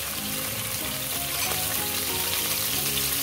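Broccoli and prawns sizzle steadily in a hot pan as soy sauce and oyster sauce are stirred through, a dense continuous frying hiss with faint scraping underneath, close and even throughout.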